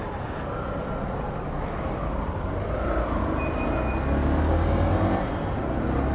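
A Yamaha Factor 150 motorcycle being ridden gives a continuous engine drone mixed with rushing wind, steady and fairly loud, swelling slightly toward the end, with no talking.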